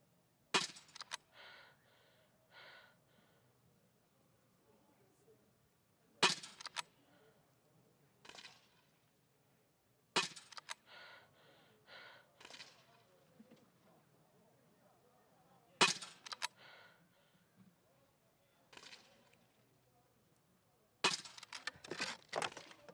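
Rifle shots ring out at the shooting range of a sitting para biathlon race at Beijing 2022, sharp cracks arriving in spaced clusters of about five, with faint commentary between them.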